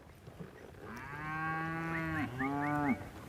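An old cow moos near a livestock trailer during cattle sorting and trailer loading, giving two long, close, full-throated moos, the second rising slightly at its end, with no talk over them.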